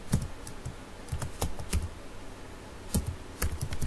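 Computer keyboard keys clatter in quick, uneven bursts while SQL code is typed, close and fairly quiet, with no talking.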